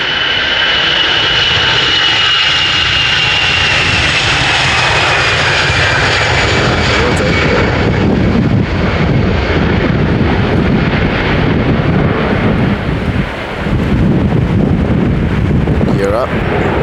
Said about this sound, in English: it's a Cessna.